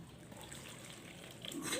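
Tap water splashes and trickles over soapy hands being rinsed during handwashing, a soft steady stream that swells louder near the end.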